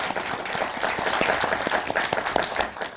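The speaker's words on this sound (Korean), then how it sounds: "박수 부탁드립니다" An audience at a year-end fan gathering and constitutional debate applauds a district mayor's introduction, a dense, steady burst of many hands clapping at moderate loudness with no speech.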